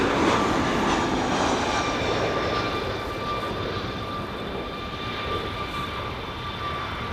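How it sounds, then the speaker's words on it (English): A Delta Airlines Airbus A321 lands on runway 24 right at LAX, its steady broadband jet roar heard from a distance and slowly easing off. "Delta Airlines, a A321, landing on a 24 right."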